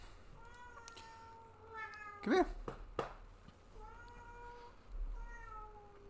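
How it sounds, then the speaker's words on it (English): A house cat meows several times in drawn-out, rising calls spread across a few seconds, with a sharper cry in the middle, while a person speaks briefly nearby. "My cat."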